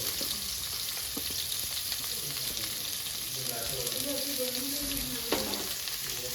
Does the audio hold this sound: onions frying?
yes